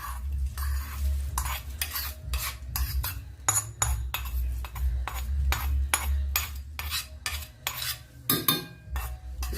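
Dry fruits that were just roasted get stirred into cooled, browned khoa in a lightly greased pan, giving a steady run of scraping, clinking spoon strokes against metal, close up with no one speaking.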